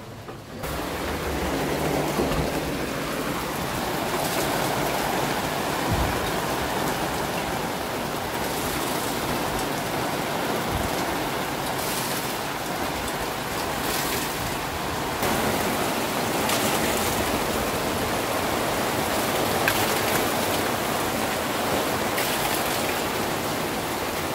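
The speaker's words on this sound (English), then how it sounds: "I did not get home before the rain." Steady rain pours down during a storm, a dense, even hiss of drops on surfaces that continues unbroken and fairly loud throughout.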